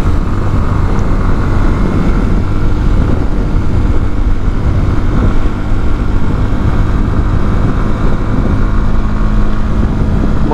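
SYM NH Trazer 190i motorcycle engine running steadily at speed near 7,000 rpm, a continuous loud drone with heavy wind rush, constant throughout without any break.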